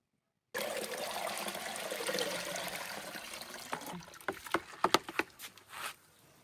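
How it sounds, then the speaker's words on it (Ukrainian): Trichoderma solution is sprayed over the leaves of garden beds of watermelons, peppers and tomatoes. A steady close hiss of water gives way to scattered splashes and drips as the flow tapers off. "ми поливаємо по листю"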